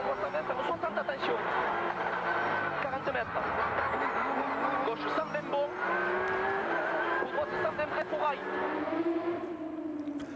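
Porsche rally cars race by in heavy rain at the 2015 Rallye d'Antibes, their engines roaring loud and steady with rising and falling pitch as they pass, under a commentator's voice throughout.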